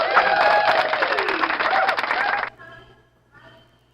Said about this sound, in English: Virtual clap for Ma'am Liza